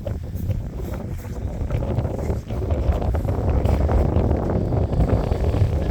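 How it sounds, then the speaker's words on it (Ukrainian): Strong wind buffets the microphone in loud, continuous gusts on a frozen lake during winter ice fishing, with a low rumble throughout and no clear voices. "Вітер далі дує шалений."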